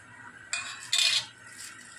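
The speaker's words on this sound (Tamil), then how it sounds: "இப்போ நம்ம இதில் வெல்லத்தை கொட்டிக்கலாம்" Jaggery tipped into a pan while making milk kozhukattai gives two short bursts of clattering and scraping against metal, close and fairly quiet.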